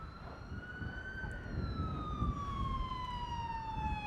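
An ambulance siren in the video game GTA 5 wails steadily with a slowly falling pitch over low rumbling game noise, moderately distant and with no talk.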